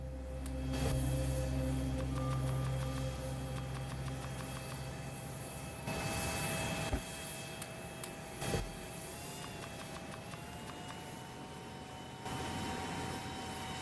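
Airplane in the Factorio video game flying, a steady engine drone with whirring tones that holds for about fourteen seconds, fairly loud and continuous, with a few brief clicks and shifts in pitch.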